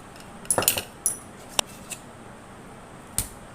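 A spoon clinks against a bowl while leftover cream is folded into a mango purée and custard mixture, giving a few quick bright taps early, a single sharp knock after that, and one final clink.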